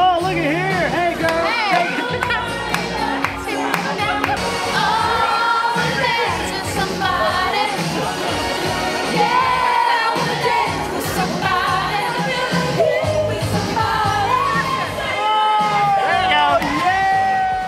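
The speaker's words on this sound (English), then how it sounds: "the whole crowd starts going like this" A bar crowd aboard a cruise ship cheers, whoops and shouts along to a song, a dense, loud, continuous mass of voices over music.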